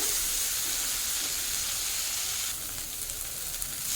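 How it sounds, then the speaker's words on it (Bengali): Prawns fry in oil in a wok over a low flame, giving a steady, even sizzle and hiss that carries on without a break, with no voices. "এখন এই তেলের মধ্যে ভেজে নেব চিংড়ি মাছ। লো ফ্লেমেই রেখে ভেজে নিতে হবে।"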